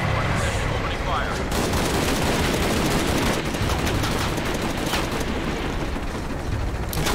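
A helicopter in Shadow of the Tomb Raider opens fire, producing a loud, continuous roar of rapid gunfire blended with rotor noise and explosive rumble that stays dense throughout.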